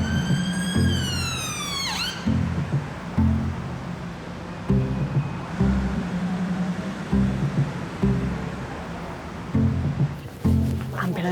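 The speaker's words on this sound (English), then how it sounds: "Ambulance has arrived." An ambulance siren sounds near the start with rising and falling wails, then cuts out, followed by a steady engine rumble with repeated low thuds from the vehicle arriving at a hospital accident and emergency department.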